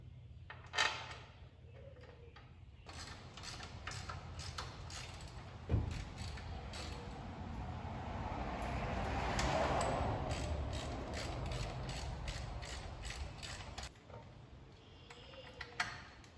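While bolts go in during a transmission swap on a John Deere 6600 combine, a ratchet clicks in quick, light bursts. Metallic ticks and clanks sound close over a low background hum, with a couple of sharper knocks.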